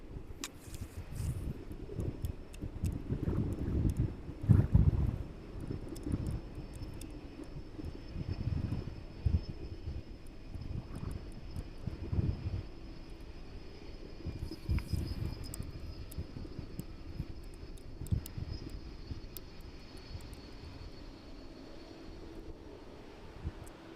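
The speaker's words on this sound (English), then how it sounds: "DHL 757 in from Reykjavik this evening" A DHL Boeing 757 cargo plane arriving from Reykjavik lands at East Midlands Airport in the evening, its jet engines a steady broadband roar that swells slightly and then holds, heard from nearby with no talking.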